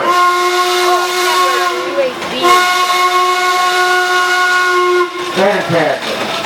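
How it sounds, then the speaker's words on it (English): Antique Buffalo Springfield steam roller sounding its whistle: a loud, sustained steady whistle tone lasting several seconds, briefly broken, over continuous steam hiss, then a short sputter of escaping steam near the end. "This is a real steam roller."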